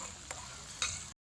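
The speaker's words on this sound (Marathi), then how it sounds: "याचा तळू द्यायचा." Filling for puran poli frying in a pan, a steady soft sizzle with a couple of brief stirring scrapes and a short cut near the end.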